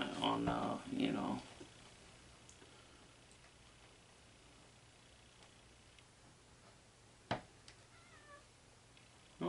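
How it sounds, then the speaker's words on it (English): A house cat meows near the start, a couple of close calls before mostly quiet room tone with a sharp click later, in a room where a Sony GCS 50 industrial Betamax VCR is being cleaned. "I gotta let my kitty out here."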